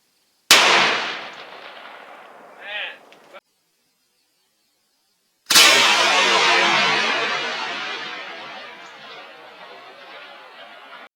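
Two booming .416 Ruger rifle shots fired at giant logs, each a loud blast with a long rolling echo. The first is cut off after a few seconds, and the second decays slowly.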